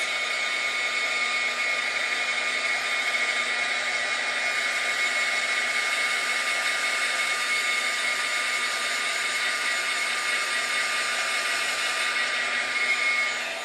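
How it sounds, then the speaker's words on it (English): A hair dryer runs steadily and close by, drying paint on pages of a mixed media notebook, a continuous even whir with no talk over it. "So I'm drying my pink areas."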